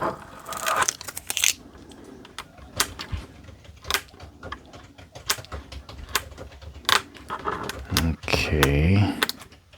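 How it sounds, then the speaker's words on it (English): Stickers are peeled off a surface by hand: a run of crisp, irregular tearing and crackling strips, close and moderately loud, with a longer drawn-out rip near the end and no one talking. "Peel these stickers off."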